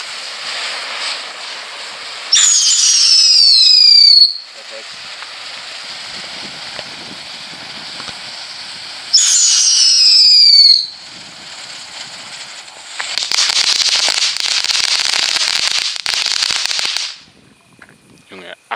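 Whistling spinning firecrackers of the F1/T1 class set off outdoors: two shrill rising whistles several seconds apart, then a longer crackling, hissing burst of sound lasting a few seconds before it cuts off.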